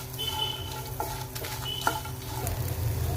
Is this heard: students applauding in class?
no